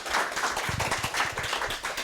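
A small audience at a startup legal talk gives a short round of clapping, a few scattered pairs of hands patting out an uneven rhythm, fairly faint and brief, with no talking.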